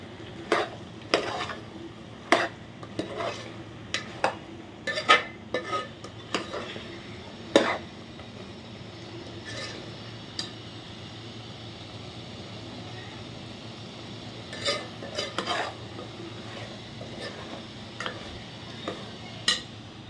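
Gongura chicken with gongura paste being stirred in a pan: a spoon clicks and scrapes against the metal in irregular bursts over a low, steady sizzle, with no talking.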